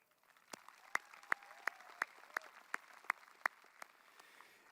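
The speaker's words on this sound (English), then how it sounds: "give a most sincere thank you and a round of applause to your parents, guardians, grandparents, teachers" Graduation crowd clapping for parents and teachers, a light, fairly distant applause with a steady patter of many hands and a few sharp, close individual claps standing out at a regular rhythm.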